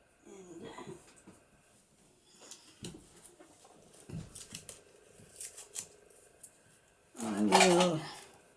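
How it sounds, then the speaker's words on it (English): Scissors cutting a strip of washi tape for a magnetic junk-journal page wrap, soft handling rustles first, then a loud close crisp snip near the end. "I will cut this off straight and just cut a piece to cover that"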